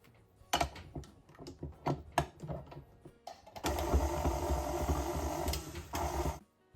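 Scattered clicks and clattering taps come first, then a stand mixer fitted with a paddle attachment runs on choux pastry dough as a steady, close motor whir for about three seconds before stopping.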